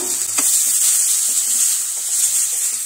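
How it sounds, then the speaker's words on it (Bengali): Hot spice paste for a tofu curry sizzles loudly and steadily in the pan once a little water goes in, giving a continuous hiss with faint stirring scrapes underneath. "মশলাটা কষানো হয়ে গেছে, এবার সামান্য একটু জল দিয়ে দিচ্ছি।"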